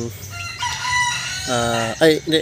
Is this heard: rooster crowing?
yes